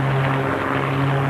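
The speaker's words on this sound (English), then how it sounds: "the airplane swaps ends and the tip smoke comes on" A single-engine aerobatic propeller airplane performs a torque roll and tail slide at an airshow, its engine droning steadily and loud with a strong low hum throughout.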